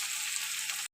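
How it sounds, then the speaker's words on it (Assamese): Onions fry in a pan in a steady, close, bright sizzle that cuts off abruptly near the end. "এতিয়া পিঁয়াজ দিলোঁ"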